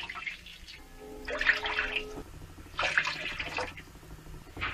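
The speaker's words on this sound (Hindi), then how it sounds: "हमने 1 कटोरी सूजी ली है, उसके लिए हमें 4 कटोरी पानी डालना है।" Water is poured into a cooking pan with toasted cumin seeds before semolina is added; two bursts of close splashing and trickling, separated by a pause, over a faint steady hum, with no talking.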